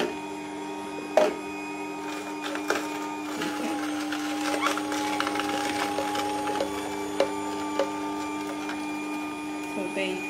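A slow masticating juicer from AICO runs steadily with its auger turning, giving a continuous mechanical hum with scattered knocks and crackles from produce being crushed.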